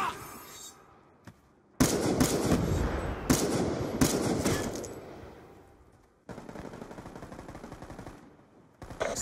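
Sniper rifle gunfire rings out during a multiplayer video game match, with sharp loud bursts and rapid volleys separated by brief quiet gaps and faint voices in the background.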